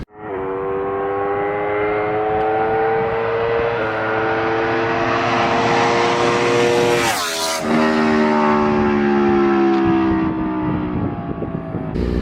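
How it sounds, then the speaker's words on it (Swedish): An Aprilia Tuono motorcycle engine rises in pitch as it approaches, peaks loudly as it passes close by, then drops in pitch and roars away. "ett litet klipp med en Aprilia Tuono som gör en flyby här"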